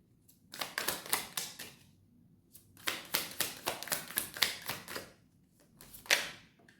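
Tarot cards are drawn and laid down one after another, close by, giving crisp slaps and snaps in three bunched groups with short quiet pauses between them.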